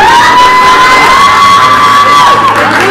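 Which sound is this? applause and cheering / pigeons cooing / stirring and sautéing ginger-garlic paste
applause and cheering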